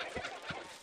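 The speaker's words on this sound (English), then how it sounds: "Get away, stupid chicken." A chicken in Baldur's Gate gives three short, soft clucks spaced evenly across under a second, faint against a quiet game background.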